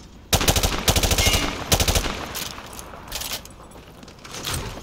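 In Call of Duty Modern Warfare 2, automatic gunfire shoots through light cover: several sharp, loud bursts of rapid shots, then quieter scattered shots fading toward the end.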